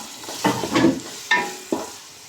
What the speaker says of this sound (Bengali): তো এখন এগুলো আমি একটু সুন্দর করে ফ্রাই করে নেব